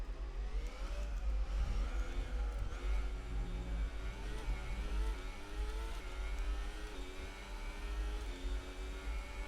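Race cars in a Formula 1 video game rounding a curve, engines droning steadily with shifting pitch as they accelerate and ease through the bend, loud and continuous with no talk.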